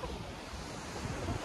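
Sea waves wash along the Rabat coast in Morocco, a steady broadband surf with wind buffeting the microphone, continuous and fairly close with no talk over it.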